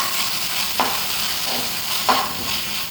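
Chicken kondattam masala frying in a pan as tomato sauce and soy sauce are stirred in, a constant loud sizzle with two distinct scraping strokes of the spoon.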